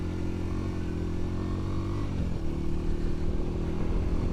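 A Yamaha Virago 250 motorcycle ridden in third gear, its engine holding a steady, loud, close drone with a slight shift in pitch midway, with no talk over it.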